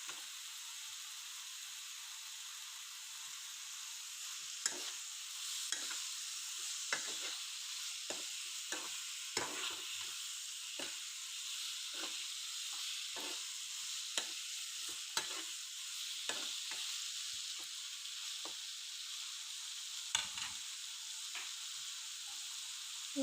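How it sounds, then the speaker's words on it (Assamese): Chopped capsicum stir-fries with fish in a pan, giving a continuous steady sizzle with scattered scraping stirs and small taps throughout, moderately quiet and close, with no one speaking. "আৰু এয়া কাটি লোৱা পেপচিকামখিনি দি দিছোঁ।"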